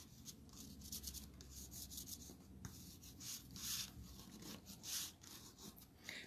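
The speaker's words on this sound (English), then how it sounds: "I'm just burnishing this because it's so detailed embossed that I want to make sure it sticks" Detailed embossed paper is burnished onto a card with soft, quiet rubbing strokes in an uneven back-and-forth rhythm, faint and close.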